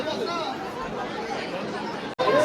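A dense crowd of visitors at Ekvira Devi temple on a busy Sunday fills the air with steady, close babble of many overlapping voices, broken by a brief dropout near the end.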